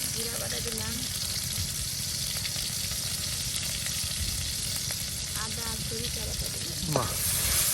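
Onion, garlic, cumin, ginger and mustard pastes fry together in oil in a village kitchen, a steady dense sizzle throughout, with faint voices and brief tonal sounds in the background.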